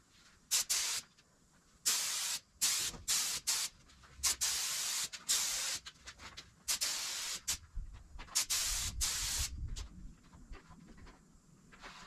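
Bursts of primer spray hiss, loud and close, while painting 1955 Chevy suspension springs, starting and stopping irregularly with short gaps, some sustained longer than others.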